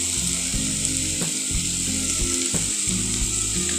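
Malabar spinach with turmeric is stirred in a frying pan, giving a loud, steady sizzle with repeated scraping strokes of the spoon roughly every half second, close by.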